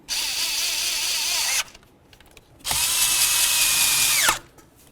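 A power drill snugs down the mounting studs on the intake plenum of a 1994-2004 Chevy S-10 during fuel injector work. Two loud, close bursts of whirring, each about one and a half seconds long, are separated by a short pause.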